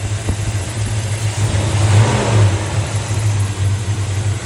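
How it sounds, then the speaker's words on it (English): A 1966 Chevrolet Fleetline engine with a Holley 850 carburetor idles steadily with a low, even rumble, swelling briefly as if the throttle is nudged before settling back. "Try to get this down a little bit so it's idling a little better."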